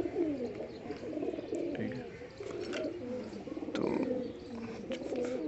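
Indian desi high flyer pigeons coo close by in a continuous, overlapping low murmur of throaty calls that lasts throughout.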